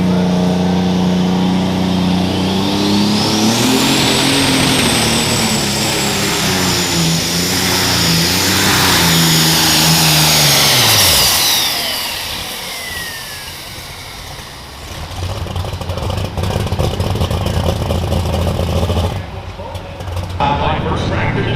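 Unlimited super stock pulling tractors roar at full power during a county fair tractor pull in Goshen, a loud sustained engine drone with a sweeping high whine that fades and drops off, followed by lower rumbling with crowd or announcer sounds.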